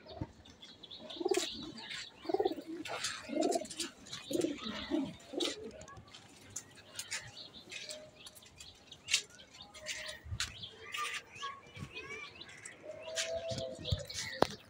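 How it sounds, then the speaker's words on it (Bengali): Pigeons in a rain-soaked loft coo in soft repeated rolls at first, then chirps, rustles and occasional wing flaps follow nearby, with faint human voices in the background. "আমাদের যে কবুতর, এই কবুতরগুলোর অবস্থা বহুত খারাপ"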